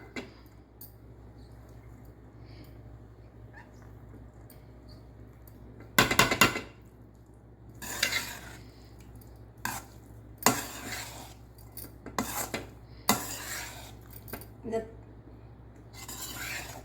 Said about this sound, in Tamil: இந்த சாதத்தை சேர்த்து நாம் கிளறிடலாம்